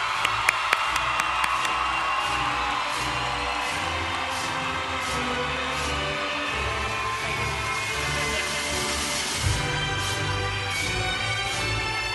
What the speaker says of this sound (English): let's give the graduating class of 25 a round of applause